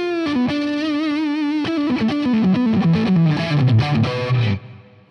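A Fender guitar amplifier with its lead boost engaged plays a loud, distorted electric guitar line with a sustained note, then a run of descending notes before cutting off, with no talk over it.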